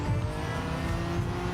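Nissan R32 GT-R Nismo, fully upgraded, in Gran Turismo 7: a steady, loud engine drone with a dense buzzing tone, holding continuously with no pauses or talk.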